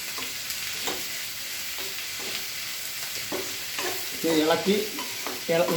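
Drumstick leaves for thoran, with a little salt, fry in a pan and are stirred now and then, so a constant close sizzle runs under repeated scraping strokes of the spoon.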